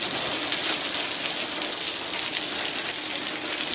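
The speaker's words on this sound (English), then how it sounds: "It's 9 a.m. and we have amazing rainfall." Morning monsoon rain in Tucson, Arizona pours down in a dense, loud, steady hiss of drops striking surfaces, continuous and close, with no talking.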